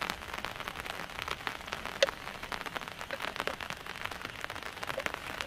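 Heavy rain falls on a group camp in a forest in India, a steady close patter with scattered sharper drops ticking on nearby surfaces, no voices.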